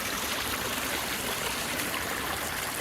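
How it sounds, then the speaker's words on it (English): Water trickles over limestone in a pondless waterfall, a close, steady, hissing rush that keeps going with no pauses. "Little offshoot waterfall right there."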